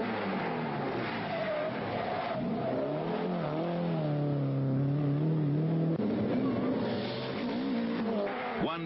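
An Opel rally car races on the 1983 Haspengouw Rally, its engine revving loud and close with shifting pitch as it accelerates and slides. A commentator talks over the engine noise.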